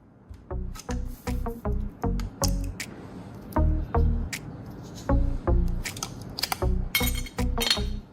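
A sealed battery casing being cut open, heard as a series of sharp, close cracking and snapping clicks in an uneven rhythm, each short and crisp, with brief quiet gaps between them.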